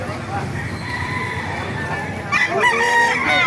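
A gamefowl rooster crows loudly nearby, its drawn-out call rising over steady background clucking and low crowd murmur.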